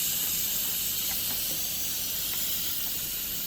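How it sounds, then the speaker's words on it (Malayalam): A pressure cooker hisses with a steady, fairly faint jet of steam while cooking mutton, continuous and alone in a kitchen. "മട്ടൻ ഉണ്ടല്ലോ, അതൊന്ന് കുക്കറിലേക്കിട്ട് ഒന്ന് വേവിച്ചെടുക്കുക."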